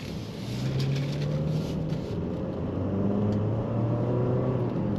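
A 2026 Infiniti QX60 Sport with a 4-cylinder turbo engine on the move makes a steady, even cabin hum with gentle rising engine tones and road noise, no voices over it.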